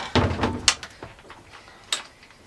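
A door on a 1956 Cal Craft trailer in a cramped interior, opening or closing with a few light knocks and a sharp latch click near the start, then another click about a second later, close by.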